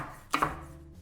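A knife chops leek on a cutting board with two quick, quiet thuds close together, surrounded by near silence.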